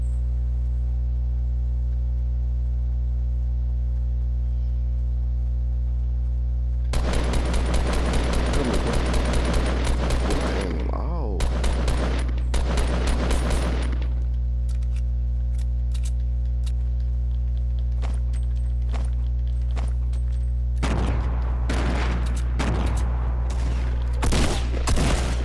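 Rapid SMG bursts ring out in Fortnite Battle Royale, loud repeated volleys broken by pauses, over a steady game hum.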